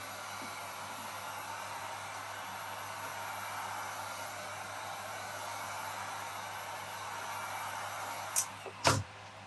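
A hair dryer or heat gun warms vinyl wrap film on a Pro Boat Sonicwake RC boat, a steady, even blowing hiss that runs the whole time, ending with a couple of short clicks or knocks.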